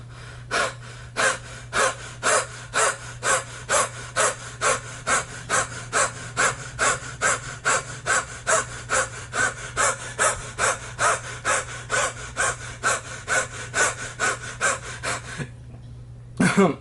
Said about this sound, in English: So I'm gonna just breathe heavily.